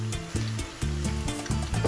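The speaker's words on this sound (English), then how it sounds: "So you want to fry your tomato paste for a while" Tomato paste frying in a pot for a Nigerian assorted meat beef stew, giving a steady close sizzle with pulsing bursts and soft stirring noises, no voices.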